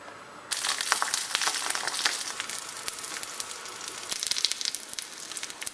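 Leaf-wrapped prawns sizzle and crackle in a pan with a teaspoon of oil for Kerala chemmeen pollichathu, a steady close hiss that starts after a brief quiet moment and keeps popping and spitting throughout.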